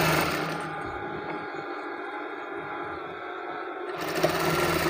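A sewing machine stitches the back panel of a kameez with a steady, close, high-speed whir that runs almost continuously, easing briefly near the end.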